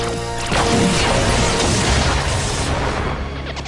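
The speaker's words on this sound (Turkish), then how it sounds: "Hero dönüştürücü patlama." A loud synthesized blast from a Power Rangers Dino Super Charge Hero converter bursts out with a heavy boom and crash, then decays into a rumbling wash.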